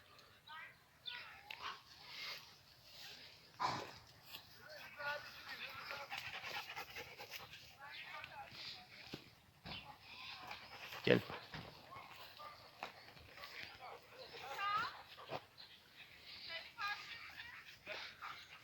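A dog pants steadily and rapidly nearby in a dog park, with brief whimpers and faint birds in the background.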